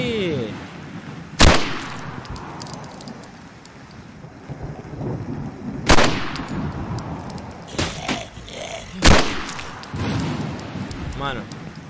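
Sharp gunshots in a post-apocalyptic zombie survival game, four loud isolated cracks spaced several seconds apart over a low background rumble.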